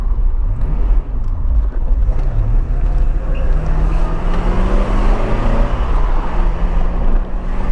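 A 1985 Porsche 928 S Euro drives along not yet warmed up, its V8 giving a steady low engine rumble with gentle rises in pitch, under heavy wind noise at close range.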